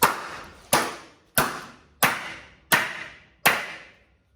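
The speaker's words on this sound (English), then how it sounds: "Takes a damn good whack to get the gel coat off it" A hammer whacks a tough gel-coated car panel six times at an even pace, each hit a sharp, loud crack that decays quickly before the next.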